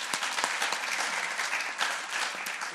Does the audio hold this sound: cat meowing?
no